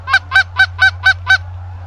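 Six evenly spaced, loud nasal honks from Canada geese during an Eastern Montana goose hunt, close and regular in rhythm over a steady low hum, with no voices.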